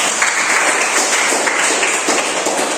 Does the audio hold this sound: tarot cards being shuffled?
no